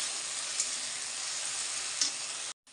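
Tomato paste sizzles and hisses steadily in a hot frying pan, a loud continuous fry with a couple of small pops, cutting off at the end.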